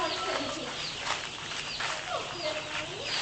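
Chickens cluck and murmur on a farm, a soft mix of short bird calls over a steady outdoor background, with faint voices talking at a distance.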